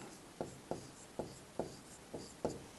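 Hand writing of Sanskrit text: six evenly spaced pen or chalk strokes tapping and scratching softly on a surface, close but quiet, with no talking.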